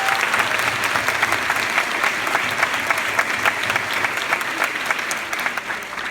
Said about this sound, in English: Round of applause for all the cancer survivors